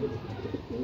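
Racing pigeons at a training release in Muñoz, Nueva Ecija, 113 km from their home loft, give soft, low cooing calls close by under a steady rustling background.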